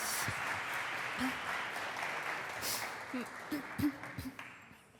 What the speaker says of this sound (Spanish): un fuerte aplauso, por favor, para Nanda